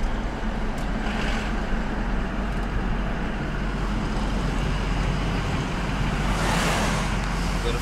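A 2006 Ford vehicle's engine runs at a steady idle-like drone outdoors, a constant broadband rumble with a slight swell near the end and no talk.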